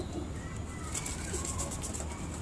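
Pigeons cooing softly at a golden dove and teddy bear pigeon breeding loft in Karachi, a low steady murmur of calls under broadband background noise.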